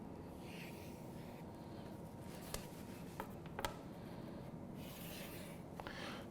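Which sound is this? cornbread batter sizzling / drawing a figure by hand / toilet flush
drawing a figure by hand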